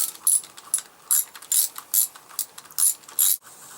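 Ratchet wrench fitted with an 8mm socket clicks in short rapid bursts while loosening corroded bolts on a Honda CBF1000 GT, about seven close, crisp ratcheting runs separated by brief pauses.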